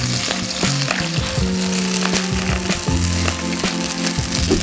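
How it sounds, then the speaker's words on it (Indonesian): Spring onions fry in hot oil in a wok, giving a loud, continuous close-up sizzle with crackling bursts and occasional scraping and stirring clatter throughout. "Dan kita akan goreng daun bawangnya."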